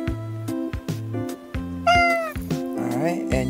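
A video game cat gives a couple of drawn-out meows over a steady, looping musical backing, with the calls standing out loud and near toward the middle and end.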